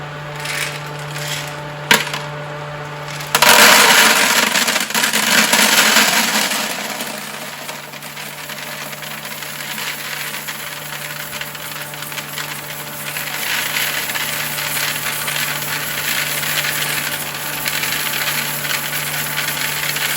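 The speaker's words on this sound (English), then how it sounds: "I'm just dumping it back and forth in front of this fan and letting it blow out the chaff." Shelled ear corn kernels are poured back and forth in front of a small electric fan, giving a rushing, rattling cascade of grain over the fan's steady hum, with a sharp clatter near the start.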